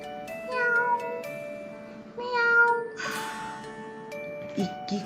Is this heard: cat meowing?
yes